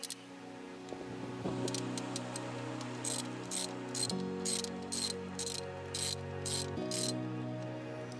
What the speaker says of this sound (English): Remove the fill hole plug using a 3/16 hex socket.